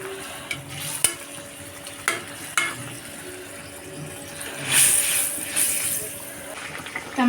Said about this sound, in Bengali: তো এই তো আমরা ঘুরিয়ে ঘুরিয়ে নেড়ে দিচ্ছে।